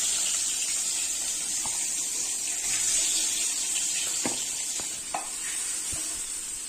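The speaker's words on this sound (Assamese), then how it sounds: "অকণমান গৰম তেলত মাছখিনি ফ্ৰাই কৰিলোঁ" Fish fries in a little hot oil with a steady soft sizzle, broken by a few clinks and scrapes of stirring, close and fairly quiet.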